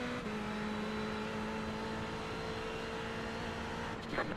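A Ferrari 488 GT3 race car engine in iRacing at Lime Rock holds a steady, loud drone throughout, with a brief shift in pitch near the end.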